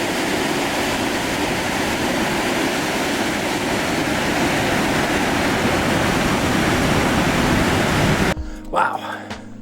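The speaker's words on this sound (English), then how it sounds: "Narrow, deep canyon like that with the water just raging down below." Water rages down through a narrow, deep canyon at Mount Rainier, partly flowing beneath a boulder, a dense continuous roar that stays loud and unbroken until it cuts off abruptly near the end.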